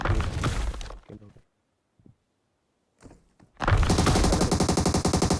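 Automatic gunfire from PUBG Mobile, a loud burst of rapid shots, then near silence with a few faint thuds, then a second long rapid spray of shots, close and dominant.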